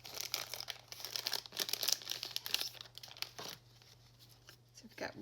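Thick cardstock butterfly ephemera pieces are handled and shuffled, giving crisp crinkling and rustling bursts close to the microphone, busiest in the first half before trailing off to quieter handling.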